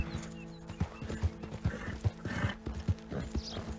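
Horse hooves clip-clop in a quick galloping rhythm in Red Dead Redemption 2, with a whinny and a few close snorts over faint ambient game sound.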